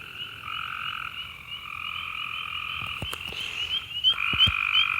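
Frogs croaking outdoors at dusk, a dense continuous chorus of high trilling calls with occasional sharp nearby clicks and croaks, steady and fairly faint, no voices.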